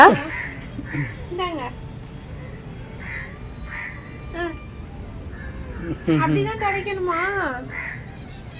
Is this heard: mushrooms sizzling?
no